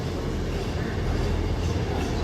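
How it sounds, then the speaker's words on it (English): Train at Newport station in South Wales, a steady broadband rumble of rolling rail stock that holds at a constant level throughout, with no talk over it. "So I will take the train going to Cardiff Central."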